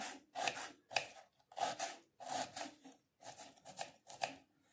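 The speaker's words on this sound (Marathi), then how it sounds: "अगदी बारीक कांदा कट करून घ्यायचा आपल्याला या पद्धतीने" A knife chops onions finely on a board in quick bursts of rubbing, scraping strokes, close and quiet, with brief pauses between each run.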